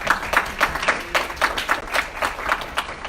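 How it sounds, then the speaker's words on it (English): A modest audience at a public debate claps in a loose, pulsing rhythm for a few seconds, the applause fairly close and moderately loud. "just want to have a huge round of applause for everybody that worked very hard to put this debate together."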